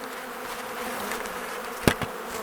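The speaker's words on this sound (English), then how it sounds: "You can see all the bees right there." Honeybees buzz steadily throughout a Flow Hive inspection in an apiary, a dense, close hum with a couple of brief louder bursts as bees pass near, with no talking.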